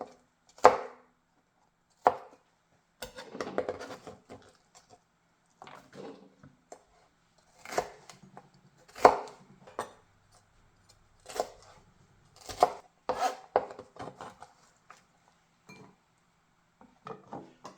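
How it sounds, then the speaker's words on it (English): Knife chopping yellow onions on a board, sharp irregular cuts in short bursts with quiet pauses between, close and clear with no talking. "You can cut these yellow onions as fine as you want to or as large as you want to."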